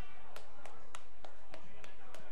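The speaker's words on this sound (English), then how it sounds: "A rousing round of applause." Evenly spaced single hand claps ring out at a moderate pace, quiet and fairly near, over a low steady background hum during a swimming and diving segment of a televised athletics show.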